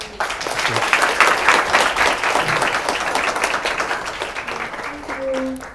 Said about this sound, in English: give a warm applause and thanks to...